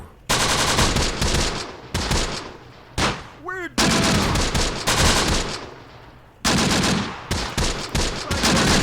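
Dense, loud gunfire and mortar blasts from the Close Combat: The Bloody First video game in a night battle. Sustained volleys break briefly for a rising whistle before the barrage resumes.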